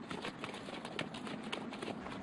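Mounted Republican Guard horses on a Paris street in 1934 clip-clop in a steady, fairly quick rhythm of hoofbeats, heard at moderate distance over a noisy background.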